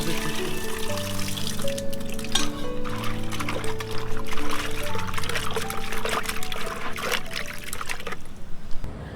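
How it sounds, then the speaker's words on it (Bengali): Water pours and trickles steadily while taro and fish are rinsed clean for a Bengali taro-and-fish curry, a continuous close splashing flow that stops abruptly near the end. "কচু আর মাছ পরিষ্কার করে ধুয়ে নিলাম"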